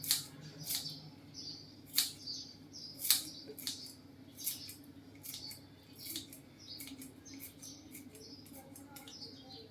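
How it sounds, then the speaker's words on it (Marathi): A knife chops coriander finely on a board at a steady rhythm, each cut a sharp, faint tap, with quiet room hum underneath. "इथे मी कोथिंबीर घेतलेली आहे ती आपण बारीक चिरून टाकूया."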